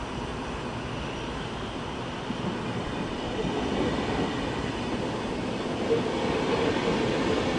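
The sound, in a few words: intercity train to Kiel at Köln Hbf station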